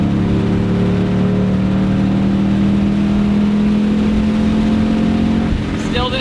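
V8 of a 2005-2009 Ford Mustang GT with the 3-valve engine holds a loud, steady drone at high revs, with a strong low hum and buzzy harmonics, close by with no talk.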